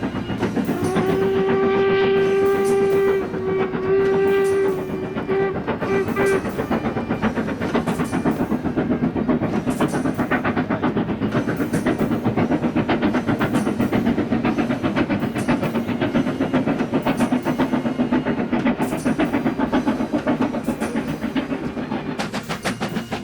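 A steam train runs along a Scottish railway line, loud and close, with a long whistle-like tonal blast early on and then a continuous roar of hissing and rhythmic wheel clatter.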